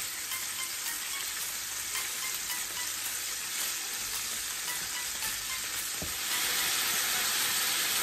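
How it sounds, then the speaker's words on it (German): Venison goulash meat sears in hot margarine with a loud, continuous sizzle and crackle, broken by one metallic clink partway through. "Immer in kleinen Portionchen anbraten."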